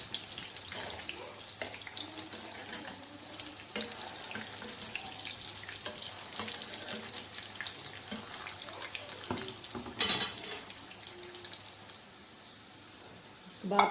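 Red bean (lal lobia) kebabs fry in a pan with a steady, moderately quiet hiss. The sizzle swells briefly about two-thirds through, then fades toward the end.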